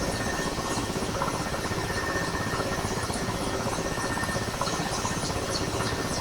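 A Mil Mi-8MTV2 helicopter during a cold engine start with the start switch at crank: a steady, loud, dense turbine and rotor roar fills the scene evenly throughout, with no talk over it.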